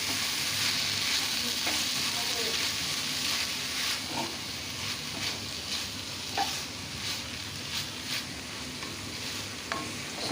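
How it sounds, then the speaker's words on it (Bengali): Boiled, drained soya chunks sautéed in spiced masala in a pan, a continuous oily sizzle with occasional scraping stirs and soft clinks breaking through at irregular intervals. "এখন সিদ্ধ করে জল ঝরিয়ে রাখা সয়াবিনগুলোকে আমি এর মধ্যে দিয়ে দিচ্ছি, দিয়ে কিছুক্ষণ আমি এটাকে কষিয়ে নেব।"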